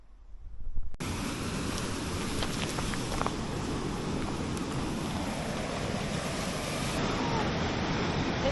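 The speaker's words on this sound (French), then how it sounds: "C'est là la cascade." A waterfall roars steadily at close range on a holiday outing, a dense broadband rush of falling water mixed with wind buffeting the microphone, continuous and loud from the first second onward with no voices.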